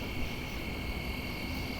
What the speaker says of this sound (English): It's got quite a lively soundscape here amongst the crickets, grasshoppers,